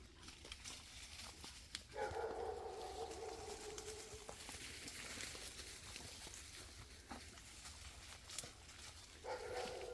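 A spaniel barks faintly in the distance on a woodland walk among hazel, a few short bursts rising over quiet outdoor ambience.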